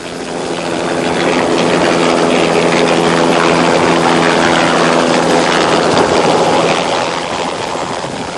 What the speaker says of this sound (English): The searchers were lifted to their various sectors by helicopter